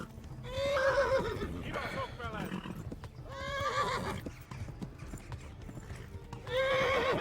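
Horse hooves clip-clop steadily in the medieval game Kingdom Come Deliverance, broken by several loud, close whinnies and neighs from the horse.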